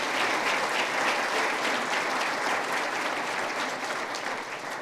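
A large audience applauds for a musician at a city event, a steady, dense wash of clapping that holds strong for several seconds before easing slightly at the end, with no voices over it.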